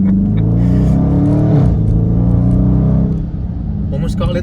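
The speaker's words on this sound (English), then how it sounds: "Considering that's a stock exhaust, what a fabulous sound this thing makes." A Dodge Charger Scat Pack with its stock exhaust accelerates on a rainy road, a loud deep engine roar rising in pitch from inside the car, then easing slightly, with a voice talking over it.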